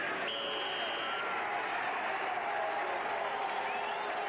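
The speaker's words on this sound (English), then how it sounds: "Fans remaining starting to cheer for Denver." Crowd at a 1984 Broncos–Bills NFL football game in a stadium cheering faintly and steadily in the distance, with a whistle-like tone near the start, under broadcast ambience.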